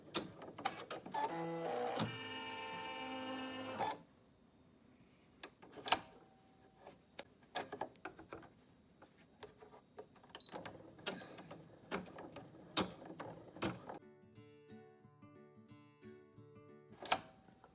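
A Brother PE770 embroidery machine stitching an in-the-hoop mask, rapid rhythmic mechanical chatter with bursts of needle strikes, a dense whirring run early on and clicks and motor pulses, close and fairly quiet, with no speech.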